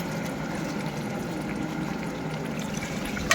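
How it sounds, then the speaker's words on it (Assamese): Water poured into a pan of vegetable curry with spinach, potato and tomato, a continuous close hissing, bubbling wash of liquid with a faint clatter at the end. "এতিয়া মই পানী দিলোঁ সবজিটো"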